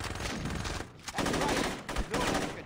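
Rapid automatic gunfire in the video game Saints Row comes in loud sustained bursts with brief gaps between them, and a voice can be heard faintly underneath.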